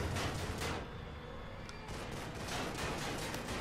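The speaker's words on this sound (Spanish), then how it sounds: "Escucho disparos y demás." Dense bursts of rapid gunfire crackle continuously in the video game The Evil Within, with a brief lull before the shooting picks up again.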